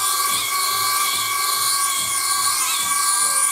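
Motors of an armed Eachine racing drone spinning up: a loud, continuous high-pitched whine with sweeping tonal shifts as the rotors rise and fall in speed, close and alone.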